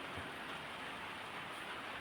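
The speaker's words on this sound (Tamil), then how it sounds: "இப்போ தூங்கி எந்திரிச்சு மழை பெய்ஞ்சிட்டு இருக்கு." Steady rain falls over a village, a soft, even hiss that stays constant throughout, faint and with no voices.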